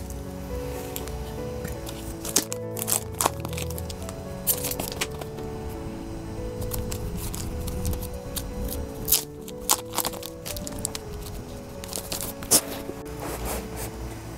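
An album, version A, being opened and unboxed, with close crinkly plastic and paper rustling, tearing and handling noises, sharp scratchy bursts scattered over a steady bed of soft background music.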